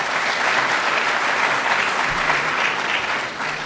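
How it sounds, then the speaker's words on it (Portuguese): Audience applause at an Angolan women's league tribute event: steady, dense clapping from a crowd, sustained throughout and tapering slightly at the end. "arrancar mais uma salva de palmas da plateia"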